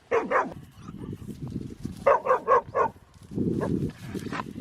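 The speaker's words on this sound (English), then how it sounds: "Copper is barking away at Coco." A dog barks in short bursts of two to four yips, close by, between stretches of lower rustling and a growly vocal sound.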